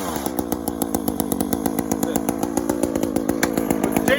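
A chainsaw runs with its chain brake released, giving a loud, steady buzzing drone with a fast rhythmic chatter from the spinning chain. It keeps going without pause.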